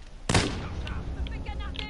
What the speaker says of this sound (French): Balance une grenade paralysante.